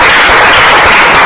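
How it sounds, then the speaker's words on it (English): A meeting audience breaks into a loud round of applause, a dense, continuous wash of many hands clapping that fills the short moment without any voices. "I request all of you to carry out a huge round of applause."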